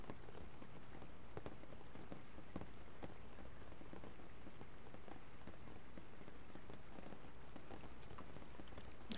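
Soft, dense rain pattering on a surface, a steady continuous wash of small drops with scattered sharper ticks, faint and even throughout with no voices.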